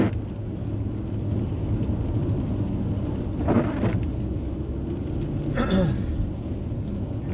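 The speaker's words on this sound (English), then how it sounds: "But yeah, it's been raining a lot." Rain falling outdoors: a steady, even wash of hiss with a low rumble underneath, broken by a couple of brief swishing surges.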